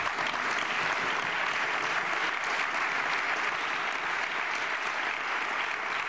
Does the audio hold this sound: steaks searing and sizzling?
no